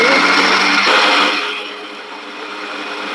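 Mixer grinder grinding tomato, onion and garlic for fish curry, a loud high whir that settles into a softer, steady hum after about a second and a half, with no voices.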